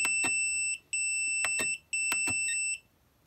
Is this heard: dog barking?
no